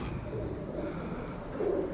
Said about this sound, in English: If you're worried about the old birds, Hitchcock would be proud.